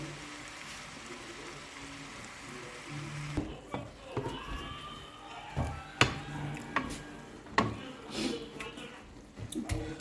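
Food is beaten and chopped with a spoon in a pot, giving irregular knocking and scraping strikes that start a few seconds in and repeat unevenly, close and moderately loud over low kitchen background.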